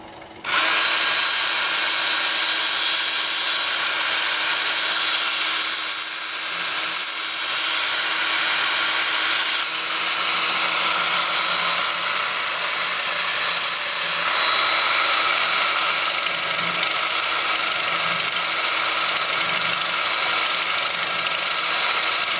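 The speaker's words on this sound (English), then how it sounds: "I'm going to be spinning the lathe in reverse at about 350 RPM." A wood lathe turning sassafras in reverse at about 350 RPM, a steady close whirring hum with faint rubbing over it, continuous and unchanging for the whole stretch.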